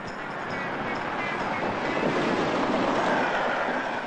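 A passenger train runs along rails through the Tyrol in Central Europe, giving a steady, loud rumble with airy rushing noise throughout and no voices.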